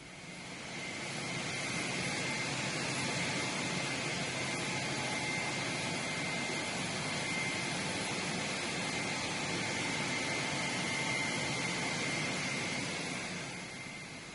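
Aircraft on the ground while prisoners board at 6:30 a.m. at an airport during the Iran–Iraq War, a steady loud engine whine and roar with a sustained high tone, constant throughout and without speech.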